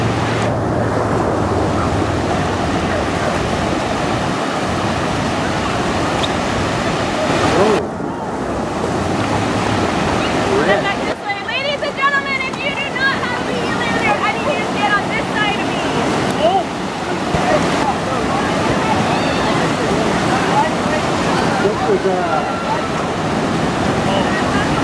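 Ocean surf breaking steadily at an ocean surf dog surfing event, with loud continuous wash and wind noise on the microphone throughout, plus faint bursts of voices and a few brief splashy gaps.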